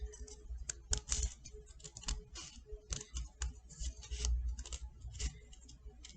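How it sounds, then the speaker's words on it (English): Scissors snipping through paper in a Halloween craft, a quiet, close series of irregular crisp clicks and cuts with short pauses between strokes. "I'm going to go back up and cut the top of that."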